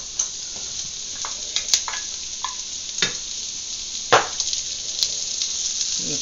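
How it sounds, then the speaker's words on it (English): Celery hits a pan of farmer sausage stir fry and sizzles steadily, a constant frying hiss close by, with occasional taps and clicks of a utensil scattered through it and no talk. "I'm going to add my celery now"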